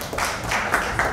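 Applause at an executive breakfast networking event, a dense, even patter of many hands clapping at moderate distance, steady through the short stretch with no voices.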